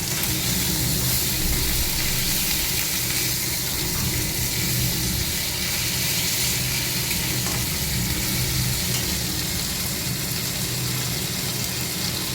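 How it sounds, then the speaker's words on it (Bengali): Fish head frying in a pan for taro curry, a loud, steady, hissing sizzle of hot oil that runs unbroken and close throughout. "কচু তরকারির জন্য মাছের মাথাটা ভেজে নিচ্ছি।"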